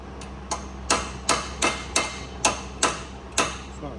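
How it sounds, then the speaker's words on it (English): Repeated hammer blows ring out on a Land Rover Defender 6x6 during 16-inch ORI strut installation, about nine crisp metallic strikes in a fairly regular rhythm, close and loud above a faint background hum. "This is a hammer."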